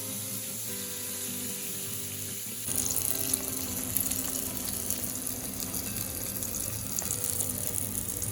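Salmon pan-frying in oil gives a continuous crackling sizzle with a faint tonal hum underneath. The sizzle grows noticeably louder and busier partway through, then holds steady to the end.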